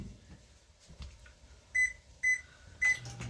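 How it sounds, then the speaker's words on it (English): Microwave oven running with garlic butter melting inside, a faint steady hum in a home kitchen, broken near the end by three short, clear electronic beeps evenly spaced. "I'm gonna melt this much butter, garlic butter, in the microwave."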